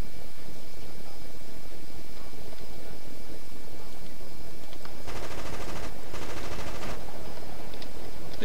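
Short bursts of Uzi fire in the crime game Crime Life crackle out near the end, two or three rapid rattling volleys over a steady hissy background, with talk nearby.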